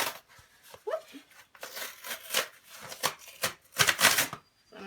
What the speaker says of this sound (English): I'm going to tear off this other half because all I want is this middle part.